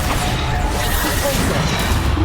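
Repeated Bombarda blast spells in the Hogwarts Legacy video game, loud continuous crashing impacts and booms in a dense combat mix with no clear gaps, alongside other spell effects.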